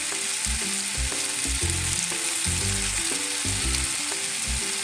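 Long capsicum peppers fry loudly in a pan, a dense continuous sizzle with occasional stirring, while background music with clear low notes plays throughout.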